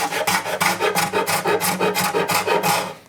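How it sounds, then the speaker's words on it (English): A scraper works veneer and glue off the arm bevel of a wooden acoustic guitar body, making rhythmic rasping strokes, about twelve of them in quick even succession, loud and close with no talking. "it's going to scrape off the veneer and the glue"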